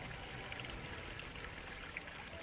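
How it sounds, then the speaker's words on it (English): Small stream trickling and gurgling outdoors, a soft, continuous watery rush at low level with no voices over it. "it's neat to see and to hear that water sort of bubbling and gurgling"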